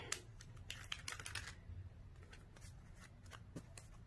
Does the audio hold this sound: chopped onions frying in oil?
no